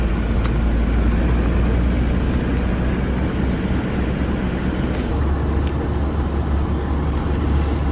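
Steady engine drone and road rumble from inside a manual stick-shift pickup being driven, with heavy low-end noise and wind buffeting throughout.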